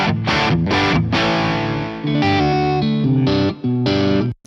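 Electric guitar played through a Boss IR-2 pedal on its diamond amp setting: loud, heavily distorted chords struck in short bursts, with brief gaps and a sustained, ringing stretch, and no talking.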